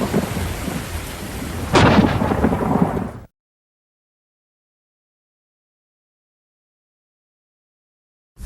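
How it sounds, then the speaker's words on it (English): Thunderstorm with rain in a basketball shoe commercial: steady loud rain hiss builds into a sharp, booming thunder crack, then the sound cuts abruptly to silence. "Then it starts raining."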